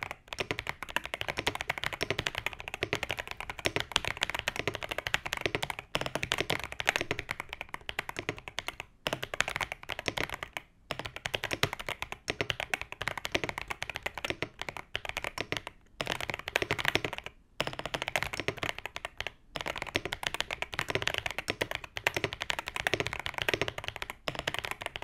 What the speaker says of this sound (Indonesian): So buat kalian yang pengen dengar suara typing testnya,